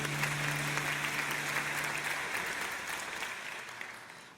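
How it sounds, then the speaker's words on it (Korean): A church congregation at Seobinggo Onnuri Church in Yongsan gives a warm round of applause, many hands clapping together evenly and fairly close, over a faint low hum at first, then gradually softening as it winds down. "축복의 박수 보내드리겠습니다."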